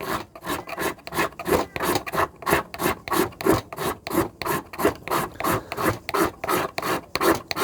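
A hard magnesium fire-starting block is scraped in quick, even back-and-forth strokes, a loud close rasping rhythm of about three strokes per second with no talk.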